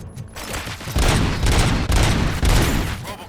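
Sustained gunfire in the video game Robocop: Rogue City, a loud, dense fusillade of rapid overlapping shots and booms that keeps going with short surges and no talking over it.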